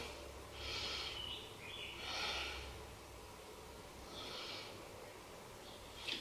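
Slow, deep breathing during a yoga hip stretch, a few long airy inhales and exhales rising and falling at close range in a quiet room with no talking.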